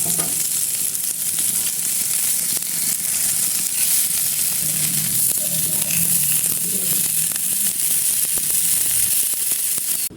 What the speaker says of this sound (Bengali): তারপর চুলায় একটা ফ্রাই প্যান বসিয়ে তাতে তেল গরম করে এই মাছটা ভেজে নেব।